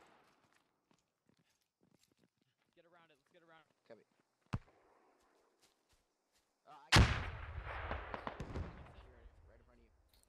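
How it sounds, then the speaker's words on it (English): A long range rocket shot in the military video game Squad, a sudden loud blast followed by a rumbling, rolling tail, preceded by faint distant gunfire thuds and quiet voice fragments. "It was a long range rocket shot"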